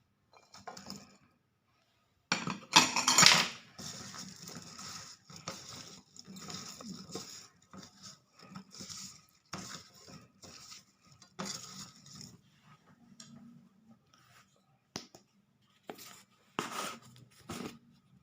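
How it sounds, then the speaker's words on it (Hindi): Carrots and green chilies are mixed into a pickle spice mixture in a bowl, with close, intermittent stirring scrapes and light clinks separated by brief pauses. "अब वो गाजरें जो हैं उनको इनके साथ मिक्स कर लेना इसी मसाले के अंदर"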